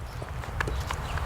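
Horse hooves thud on the ground during riding transitions between gaits, a soft, close, irregular clip-clop of several steps with a low rumbling background.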